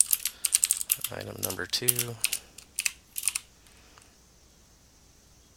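Rapid keystrokes on a computer keyboard while writing HTML code, close and crisp in irregular bursts, with someone talking partway through before the typing fades to quiet.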